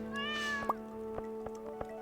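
A single clear cat meow from the video game Stardew Valley sounds over steady game music, followed by a few soft plinking effects.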